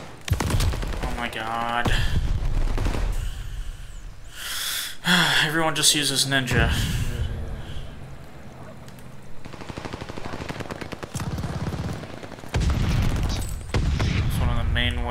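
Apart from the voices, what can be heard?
gunshots and machine-gun fire in the video game Call of Duty: Vanguard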